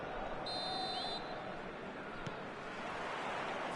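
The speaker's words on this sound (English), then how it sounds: "There's the whistle." A referee's whistle blows once in a Konami football video game, a thin sustained tone heard faintly over the constant roar of a stadium crowd.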